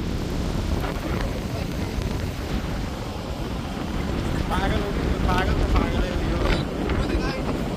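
Steady, loud wind at La Manga beach in Spain buffeting the microphone with a constant rushing roar, and muffled voices faintly underneath.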